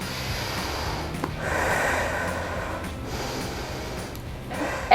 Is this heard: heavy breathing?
yes